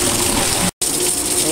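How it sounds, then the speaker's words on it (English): Pool sand filter pump in rinse mode, sending a steady loud gush of water through the line, broken by a brief cut-out partway through before the rushing resumes. "We'll let it run in rinse mode for about 30 seconds to get all that extra dirt out."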